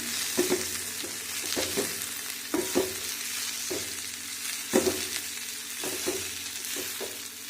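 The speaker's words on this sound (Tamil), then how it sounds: "முருங்கைக்கீரையை உள்ளே ஆட் பண்ணி நல்லா வதக்கிக்கணும்." Chopped drumstick leaves being sautéed in a hot pan, with steady sizzling and repeated scraping stir strokes close up throughout, no voices.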